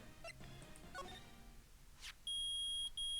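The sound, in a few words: metal detector beeping, from a video game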